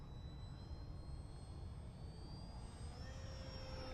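A ParkZone 940mm RAF S.E.5a WW1 biplane, a radio-controlled model, flies at full throttle with a steady electric motor whine, rising slightly in pitch, held constant over wind-like background noise at moderate distance.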